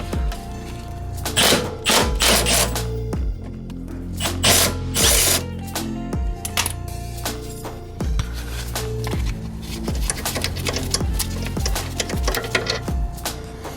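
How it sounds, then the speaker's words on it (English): A stubby impact wrench hammers in loud, close, rattling bursts as it works a subframe bolt loose on a Honda Accord CB7, pausing and restarting several times with no talking. "let's see if we can finish it up with the little impact stubby here"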